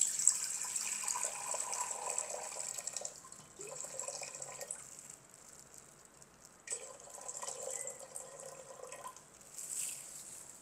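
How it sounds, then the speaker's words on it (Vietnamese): Water poured into a cooking pot being set up for steaming chicken, a light splashing trickle in two or three bursts with pauses between, fairly quiet and close, with no talk over it. "Chúng ta cho một ít nước vào."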